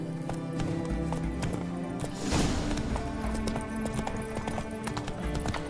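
A horse's hooves clip-clop steadily at a trot in The Witcher 3 video game, a continuous rhythmic patter over dense game music and ambience.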